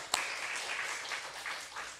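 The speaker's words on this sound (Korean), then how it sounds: "하나님께 영광의 박수 올리겠습니다" Church congregation applauding during a Korean worship service, a steady wash of distant, fairly faint clapping that begins with one sharp clap and carries on evenly.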